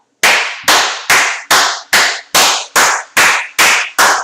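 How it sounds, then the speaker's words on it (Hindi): One person claps their hands alone, about ten sharp, evenly spaced claps in a steady rhythm, loud and close with no talk. "मैं अपने आप अपने लिए ही तालियां बजा देता हूं"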